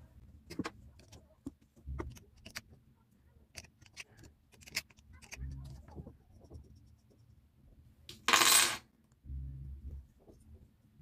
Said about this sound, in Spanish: Vamos a desarmar nuestro devanador de hilos para colocar nuestra pieza de madera.